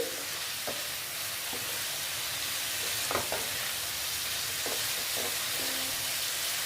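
Egg and thin potato slices stir-fried in a pan give a steady close sizzle, broken by several sharp scraping strokes of the spatula, with no talking.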